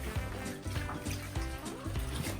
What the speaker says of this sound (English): unfold it and submerge it completely in the water. Now this will have some overflow as well.